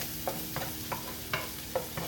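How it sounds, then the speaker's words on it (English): Garlic is stirred into bacon and onions frying in a pan, giving a steady close sizzle with rhythmic spoon scrapes about every half second, no talk. "In goes the bawang,"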